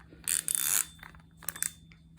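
A cap wrench works on an oil filter housing during an oil change on a Scion xB in a garage, giving a close burst of ratchet clicking followed by a few scattered metallic clicks and ticks.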